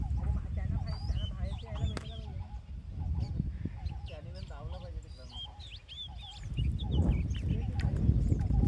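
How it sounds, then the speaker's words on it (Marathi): Several birds honk and call repeatedly beside a creek in the Konkan region, some cries overlapping, with low background noise and occasional voices nearby. "कुठचा पक्षी आहे माहीत नाही मस्त वाटत पक्ष्यांचा असा वेळ ऐकलं की"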